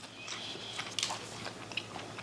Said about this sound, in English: Yeah, they're super crispy. They're kind of crunchy.